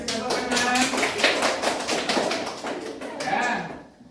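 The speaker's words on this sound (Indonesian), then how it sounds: "Bagus, kita kasih tepuk tangan." Classroom applause from a group of students, steady dense clapping sustained for several seconds with voices mixed in, tapering off at the end.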